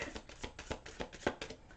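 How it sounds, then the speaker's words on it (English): Tarot cards being shuffled by hand, a quiet run of soft riffling bursts at a steady, slightly uneven rhythm, close up with no talking. "One more shuffle here for Sagittarius."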